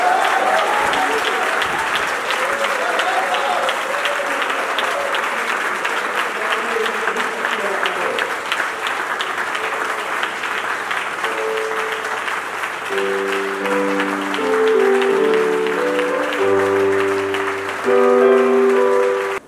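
Steady audience applause and cheering at a church leaders' conference in Côte d'Ivoire as a reverend is welcomed, a continuous clapping crowd joined later by sustained organ or keyboard chords and musical tones.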